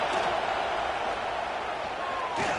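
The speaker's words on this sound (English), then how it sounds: "This crowd bringing the energy and noise early." Crowd at a college football game between Purdue and Oregon keeps up a steady, loud roar throughout, with a commentator talking over it.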